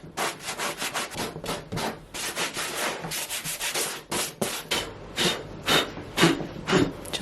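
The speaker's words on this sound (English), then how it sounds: "I'm like debating whether I want to give it a little bit of a sand or not" Sandpaper rubs back and forth over the bumpy, textured surface of an old painting in quick, rhythmic strokes, close and fairly loud with short pauses between passes.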